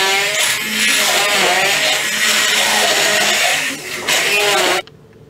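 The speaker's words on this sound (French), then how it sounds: "Et vous mixez le tout pour faire un coulis" A blender loudly whirs as it purées red berries soaked in a little iced water into a coulis, a steady grinding motor roar that shifts in pitch as the fruit breaks down, then cuts off abruptly near the end.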